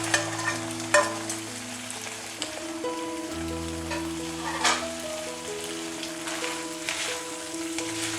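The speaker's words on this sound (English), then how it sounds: "Now I'm adding the cheese to it." Paneer cheese stir-fried with soy sauce in a hot pan for chilli paneer, a continuous close sizzle with repeated spatula scrapes and clinks throughout, under faint tonal background music.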